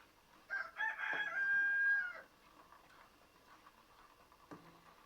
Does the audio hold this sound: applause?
no